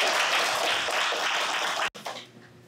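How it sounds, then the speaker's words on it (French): An audience at a French-language community donation ceremony claps for under two seconds, a close burst of applause that cuts off abruptly, leaving faint room noise. "On vous applaudit une dernière fois."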